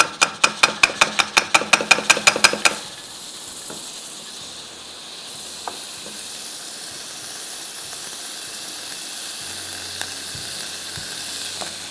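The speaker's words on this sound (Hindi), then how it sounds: "अब जैसे ही ये ब्राउन हो गई मैं इसमें डालूंगी मक्खन।" Butter dropped onto browned almond praline in a hot pan sizzles steadily with a soft hissing fry, preceded by a few seconds of rapid rhythmic tapping; no voices.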